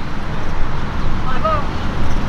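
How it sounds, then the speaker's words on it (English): Steady wind buffets the microphone with a low rumbling roar, and distant street noise sits faintly underneath. "It's a little windy, so we got the dead cat on."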